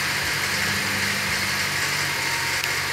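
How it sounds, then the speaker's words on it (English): A 2015 Honda Fit EX engine runs steadily right after start-up, a loud, even mechanical drone with vibration, close by and continuous, with no voices. "What I'm showing is that this car starts up a lot louder than"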